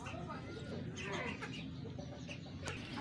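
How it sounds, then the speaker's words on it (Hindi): Clucking from a rooster on a house rooftop, close and repeated over steady background noise. "ये काफ़ी प्यारा मुर्गा है, ये देखें, ये मुर्गा बहुत प्यारा लगता है मुझे"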